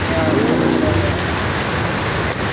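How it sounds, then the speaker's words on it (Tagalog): Heavy rain pours down in a dense, constant hiss, loud and close, with a voice briefly audible underneath. "Tuloy-tuloy ang ulan. Grabe."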